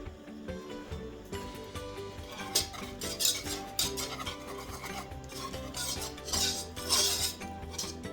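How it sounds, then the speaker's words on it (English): A whisk scrapes steadily against a metal pot while flour is beaten into a mac and cheese sauce, producing repeated rasping strokes with occasional louder metallic swipes, close and alone. "You do want to continuously whisk, you know, while everything is mixing together to avoid getting clumps."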